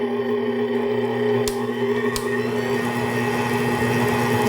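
An 800-watt VIVOHOME stand mixer with a 6.7-quart bowl kneads bread dough with a steady, close motor whir. A few faint clicks sound under the hum, and nobody talks.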